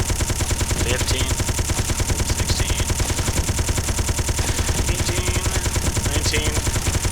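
A Gatling gun fires in the video game Space Engineers, a loud, rapid, unbroken rattle of shots with faint higher blasts mixed in, continuous through the whole stretch.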